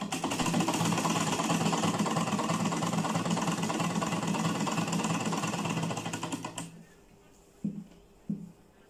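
A sewing machine stitches a frock hem, its motor buzzing in a fast, steady run for about six and a half seconds before stopping. Two soft knocks follow in the quiet.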